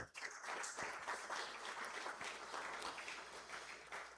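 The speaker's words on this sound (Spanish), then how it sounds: "Fuertes palmas, por favor, para el coro de la universidad." Faint, distant applause from the audience at a university honorary doctorate ceremony, honoring the university choir, a continuous soft patter of clapping heard from far off.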